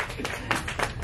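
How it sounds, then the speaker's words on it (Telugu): An audience claps at a film opening press meet, a brief burst of several sharp claps close by. "క్లాప్స్."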